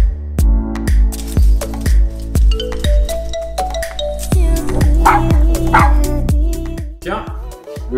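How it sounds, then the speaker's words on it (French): A dog barks as the postman arrives, a run of sharp, evenly spaced loud barks close by, joined by a heavy rhythmic beat and other sounds later on. "Le chien est en train d'aboyer, ça veut dire que le facteur est arrivé."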